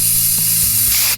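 An aerosol spray can hisses as one loud, steady burst, close up and continuous for about a second.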